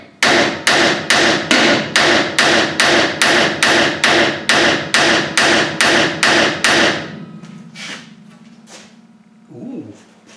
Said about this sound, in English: It's not just hammering for the sake of hammering.